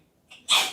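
A single sharp sneeze, with a short intake of breath just before the loud burst, close to the microphone.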